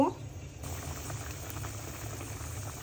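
A pot of river aair fish curry bubbles at a steady rolling boil, a continuous close simmering hiss with a brief louder moment at the start.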